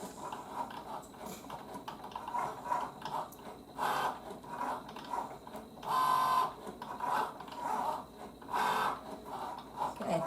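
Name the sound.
Cricut Joy Xtra cutting machine running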